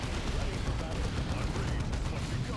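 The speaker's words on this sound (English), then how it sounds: "Okay, grenade over there, Turkus." Grenade blast in the Dawn of War 2 strategy game, a dense, continuous rumble of explosions and gunfire-like booms filling the whole stretch at steady loudness, with battle noise layered throughout.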